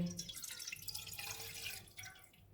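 Water poured into a cooking pan, one and a half cups for a tamarind chaat sauce, splashing and dripping briefly at close range with no talk over it.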